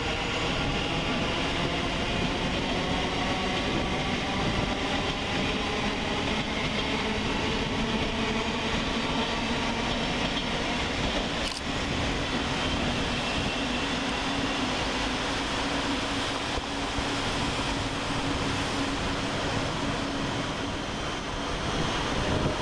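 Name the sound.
Class 700 Thameslink train departing Luton station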